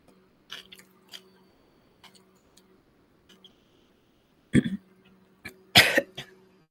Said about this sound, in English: I don't want to be, like, coughing in your guys' ears